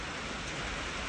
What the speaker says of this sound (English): as soon as it stops raining